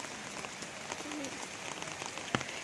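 Steady rain falling outdoors over a house with a roof, a continuous soft hiss with scattered drops and one sharper tap near the end, faint and even throughout.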